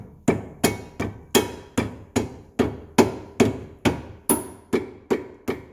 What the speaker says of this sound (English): Once it pops in, you're gonna just do a tap tap.